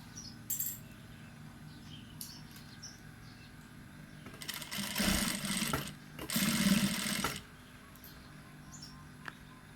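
A sewing machine stitches the hem of a sarong in two close, loud bursts of rapid mechanical whirring, with a few faint ticks and handling sounds before and after in a quiet room.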